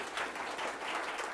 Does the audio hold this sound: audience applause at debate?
yes